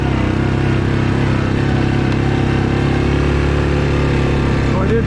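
A 2021 Yamaha Grizzly 700 SE ATV engine on a ride north of the Opeongo River, a loud, steady, close drone with strong low harmonics that holds an even pitch throughout.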